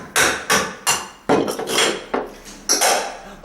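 A hammer drives a nail to pierce a hole, with about seven loud, sharp metallic strikes at a steady pace, close up and with no talking.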